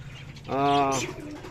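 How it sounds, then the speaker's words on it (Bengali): A single pigeon coo, a low, rounded, rolling call close by, rising out of faint background noise and fading quickly. "কামরুল ভাইয়ের দোকানে অসংখ্য পিজিয়ন্স আছে কবুতার যেগুলো"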